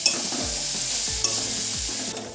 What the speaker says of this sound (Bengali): এবার এগুলো সব কিছু ভালো করে একসাথে মিশিয়ে বেশ কিছুক্ষণ সময় ধরে নাড়াচাড়া করতে থাকবো।